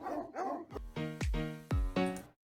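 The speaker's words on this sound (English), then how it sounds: "wonder what it would be like to try to feed 100 dogs at the same time?" Kennel dogs bark at feeding time, about four loud, close barks in a ragged sequence after a brief whine, with no talk over them.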